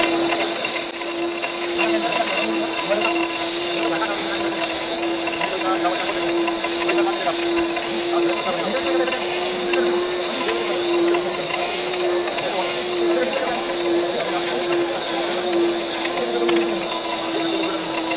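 An electric grinder machine for masala and turmeric powder runs steadily at close range, giving a constant mechanical whine with a rattling, ratchet-like texture under a voice.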